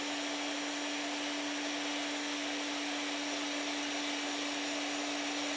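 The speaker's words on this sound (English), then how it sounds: "So this is just 2 egg whites I'm whipping up here." An electric mixer whipping two egg whites gives a loud, continuous motor whine with a steady high-pitched hum that stays unbroken throughout.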